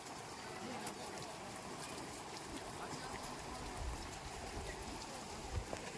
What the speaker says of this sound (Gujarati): તમે જોઈ રહ્યા છો પાણીનો પ્રવાહ